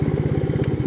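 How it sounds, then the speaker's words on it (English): Royal Enfield Meteor 350 motorcycle engine thumps with a steady, rapid low pulse, close and fairly loud in a brief burst. "On a Royal Enfield Meteor 350."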